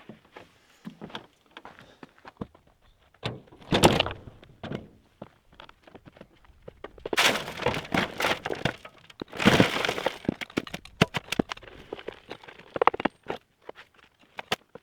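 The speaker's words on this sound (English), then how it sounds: "let's go ahead and see if we can unload this entire bucket into possibly 3 loads" A mine bucket being emptied, with sharp cracks, clatters and rattling falls of rock coming in irregular bursts, some loud and dense, others sparse, separated by quieter gaps.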